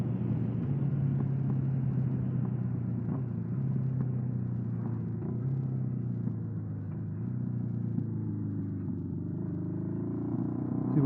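A 1979 Honda CB750F Super Sport cruising at steady highway speed, its engine giving a constant close, low rumbling drone with slight shifts in pitch and no talk over it.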